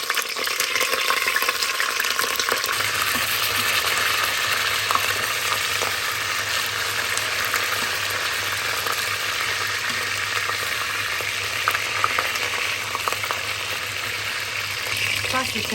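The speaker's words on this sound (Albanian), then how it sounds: "tash marrën kaçikat edhe i qesim pra në vajin në nxehtë" Ingredients fry in hot oil in a pot at the start of a homemade soup, giving a steady, loud sizzle that holds evenly throughout with no talk over it.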